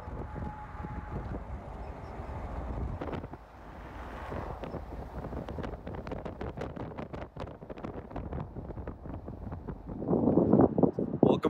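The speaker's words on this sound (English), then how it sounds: "it is super windy out here" Strong wind outdoors in Lubbock, Texas buffets the microphone in a steady rumble, with scattered pops and a louder gust near the end.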